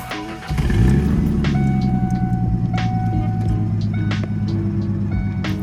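A 1994 Ford Mustang being rebuilt cranks and fires, then settles into a steady, close idle with a rough low rumble, while sharp clicks and ticks sound over the running engine.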